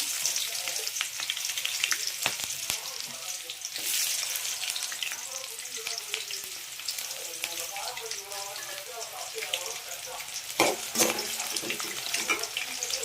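Onion and cumin frying in a pan for soya chunk kulambu crackle and sizzle steadily up close, with sharp stirring clacks, a running-water-like hiss and faint voices in the background.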